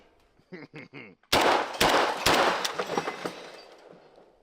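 Rapid gunfire in the Ranch Simulator video game during a speed-shooting run, a loud burst of close shots with sharp repeated cracks fading out, after a brief voice.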